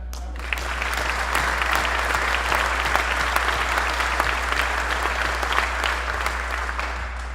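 Sustained, dense applause from a large audience at a military squadron change of command ceremony, steady and loud throughout with no break or speech over it.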